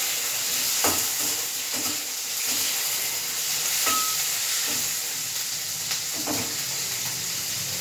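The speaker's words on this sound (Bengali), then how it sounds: "এবারে আমি উচ্ছেটা ভেজে নিচ্ছি।" Bitter gourd frying in oil gives a steady close sizzle and hiss, with a few soft stirring knocks at irregular intervals.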